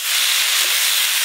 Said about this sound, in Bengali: আদা, কাঁচা লঙ্কা বাটা, এর উপর দিয়ে টমেটো দিচ্ছি, হলুদগুলো, সব মশলাগুলো দিয়ে ভালো করে কষে নেব।